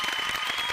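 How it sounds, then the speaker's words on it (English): An audience at a comics event applauds a guest on stage, producing a brief burst of dense, steady clapping from many hands at moderate distance. "Mike, give him another round of applause, please."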